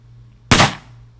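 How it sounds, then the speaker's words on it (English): One 12 gauge shotgun blast cracks out sharply and loudly, its boom trailing off quickly over a low steady hum, alone with no talking. "So that was the sound of a shotgun"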